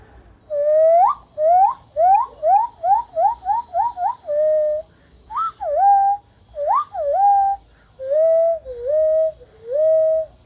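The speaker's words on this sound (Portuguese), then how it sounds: "Aqui tem um apito nasal, que a gente usa para chamar os animais" A nasal whistle used to call game while hunting sounds a series of clear, rising and falling tonal calls, first quick chirping bursts, then longer wavering notes with pauses, loud and close.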